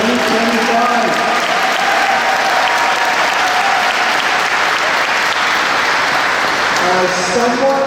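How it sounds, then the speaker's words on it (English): An audience at an 8th grade graduation breaks into sustained, loud applause for the graduating class of 2025, steady clapping filling the hall for the whole stretch as a voice briefly carries over it. "Round of applause for the class of"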